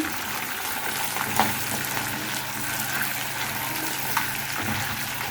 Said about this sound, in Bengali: মুরগির মাংসটি আমি এরকম লাল লাল করে ভেজে নিচ্ছি।